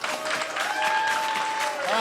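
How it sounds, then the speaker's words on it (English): A crowd at a chef competition in a university kitchen gives a round of applause, a loud continuous clapping with cheers and voices mixed in throughout. "Can I get a round of applause for these guys?"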